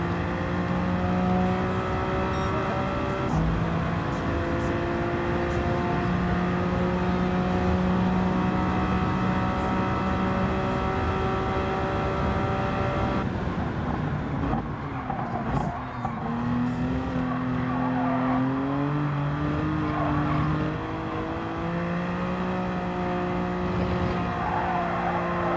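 BMW Vision Gran Turismo concept car in Gran Turismo 7 held at full throttle, a loud, steady high-pitched engine whine rising and falling through gear changes and corners, with occasional tire squeal and no talking.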